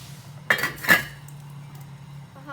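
A lid goes onto a cooking pot with two sharp metallic clanks about half a second apart, followed by a quiet low hum.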